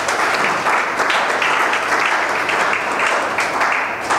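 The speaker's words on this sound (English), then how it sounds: "I want you to clap for yourselves." Audience of healthcare practitioners at a 20th-anniversary traditional medicine event clapping for themselves, a full, even burst of many hands, loud and continuous with slight pulsing, no talking over it.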